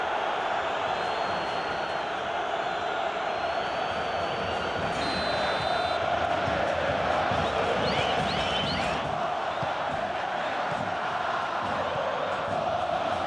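A large stadium crowd in PES 2021 cheers during a Grêmio vs Goiás football match, a dense, steady roar throughout with whistles rising briefly partway through.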